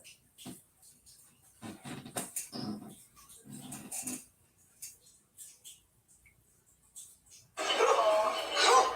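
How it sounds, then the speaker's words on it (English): A dog makes soft whimpers and short muffled growl-like sounds in scattered bursts, faint and close, ending in a louder rush of noise, with no talk over it. "Sorry, it's my dog."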